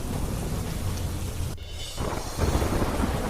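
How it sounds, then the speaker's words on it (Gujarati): Heavy monsoon rain pours down steadily in Gujarat's Dang district, with a deep rumble of thunder rolling through the dense downpour and no voices present. "ડાંગ જિલ્લામાં ધોધમાર વરસાદ."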